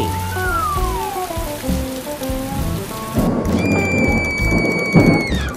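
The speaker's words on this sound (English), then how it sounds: "Rainy." Steady rain patters with a low roll of thunder, layered under a simple synthetic melody and a sustained high tone.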